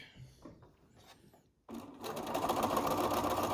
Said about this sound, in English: this will be a nice straight stitch sort of across the bottom of the mask